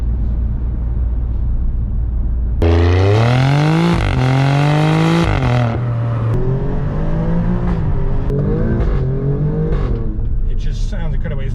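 An Alfa Romeo Giulia GTA M engine revs hard and accelerates through rising gear pulls, with a loud, sustained engine note heard from inside the car and speech underneath.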